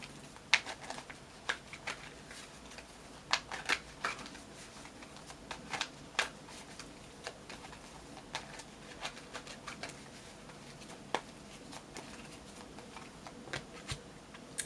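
Crystal and chakra oracle cards shuffled by hand in a quiet room, a soft, steady papery patter broken by brief ticking snaps as the deck is riffled, faint and close with no talking.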